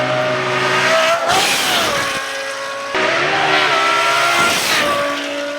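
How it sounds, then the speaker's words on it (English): A Judd V10 Formula Supra race car works the Lime Rock circuit. The engine's loud, high-pitched howl rises and falls through two passes of hard revving and downshifts, with brief dips where the throttle is lifted. "Ryan Turk was dialing in his Judd V10 Formula Supra, a fan favourite to watch, but especially to listen to."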